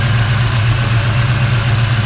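A Ford Fairmont XC GXL engine idles with a loud, steady low mechanical hum, close and continuous, with no talking over it.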